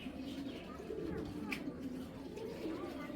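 Belgian racing pigeon, an imported cock bird, giving low soft coos under someone speaking Bengali, with steady room noise behind.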